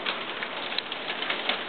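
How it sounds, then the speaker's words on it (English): Hail falling outside during a sudden shower, a dense steady patter of many small impacts on surfaces, evenly spread with a few sharper ticks, fairly close and continuous. "It's hailing outside right now."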